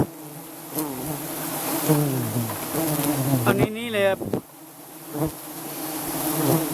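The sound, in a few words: wild honey bees buzzing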